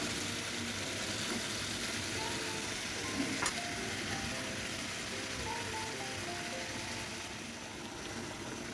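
Pabda fish with potato being stir-fried in a pan, giving a steady, close sizzle that holds at an even level throughout with no talking.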